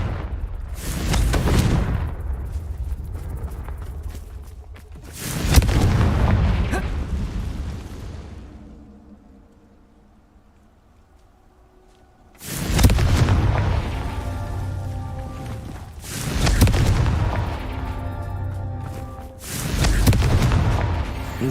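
Confringo explosive spell blasts in Hogwarts Legacy on PS5: four heavy booming explosions, each with a rumbling decay, separated by a quieter stretch of low mechanical ambience.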